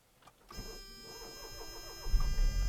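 A Smart car's starter whirs and a warning chime rings out before the small engine catches and rumbles low toward the end, all close by.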